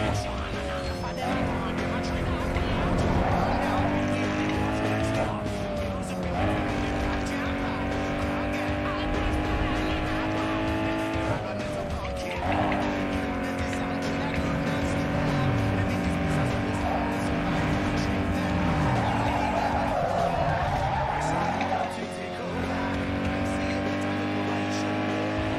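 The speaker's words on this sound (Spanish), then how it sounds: "Vamos a la carrera de derrapes." Car drifting in Need for Speed Underground 2 during a drift race, a steadily revving engine with repeated tire squeals and skids as the car slides through corners, someone talking over it.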